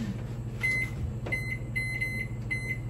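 Electronic kitchen timer in a home bakery kitchen beeping in short repeated bursts, fairly clear over a steady low background hum.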